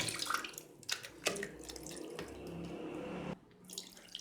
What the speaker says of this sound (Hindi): ठंडा पानी इसके अंदर मैं ऐड कर रही हूँ।